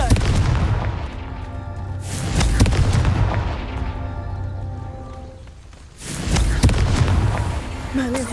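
Confringo spell blasts in Hogwarts Legacy, loud booming explosions in a few heavy bursts over rumbling combat noise, with a near voice shouting briefly at the end.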